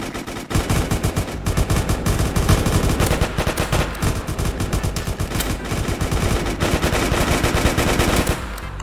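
Rapid automatic gunfire in a Roblox SCP roleplay game, a loud, dense stream of shots running almost nonstop for about eight seconds with a brief pause near the start, with no talking.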